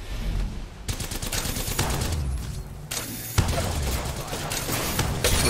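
Heavy gunfire in the video game Olympus: rapid, dense volleys of shots rattle almost continuously, with brief gaps between bursts and a sharp loud blast near the end.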